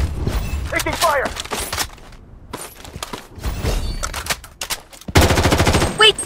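Rapid bursts of gunfire in the shooter game Blood Strike, with machine-gun rattles and single shots in quick clusters, close and loud, mixed with game voice callouts.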